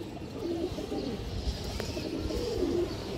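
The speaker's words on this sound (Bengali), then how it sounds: "দেখেন আপনার হারামি একটা নর কবুতর" A male pigeon coos softly at close range, two low throaty coos about two seconds apart over a faint background hum of a pigeon farm.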